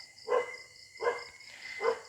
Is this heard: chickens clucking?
no